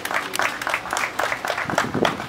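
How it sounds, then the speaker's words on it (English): An audience at a political party gathering claps together, a dense burst of close applause with some crowd noise mixed in, steady for a couple of seconds. "Now you can clap, you're allowed to."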